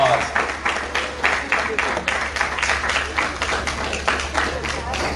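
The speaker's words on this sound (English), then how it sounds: "let's give these guys a round of applause." Applause at a Parents & Pastries gathering, a modest group clapping in a fairly close, uneven rhythm with distinct pulses, while voices and a low hum carry underneath.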